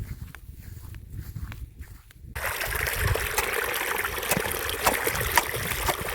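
Irrigation water flows from a channel into a flooded village paddy field, a steady, close gurgling rush that grows louder and fuller midway, with faint footsteps or splashes mixed in.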